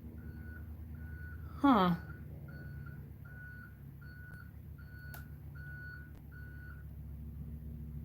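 Reversing beeps from a vehicle outside, likely an ambulance, a steady series of evenly spaced mid-pitched beeps at moderate distance, with a brief voice sound and a low engine hum underneath.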